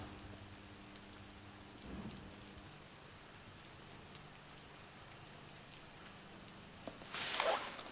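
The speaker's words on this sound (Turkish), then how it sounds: "dışarıda yeriz diye düşünmüştüm ama yağmur çok fena" Heavy rain falls steadily outside, a constant hiss and patter with a low rumble of thunder, faint and far in the background, with a brief louder burst at the end.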